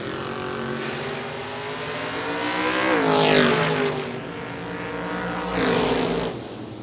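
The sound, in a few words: drag race of green Mustang and 69 Camaro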